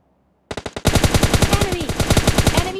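Gunfire in PUBG Mobile Lite: a few quick opening shots, then a loud, close, rapid automatic burst of evenly spaced rounds that runs for about two seconds.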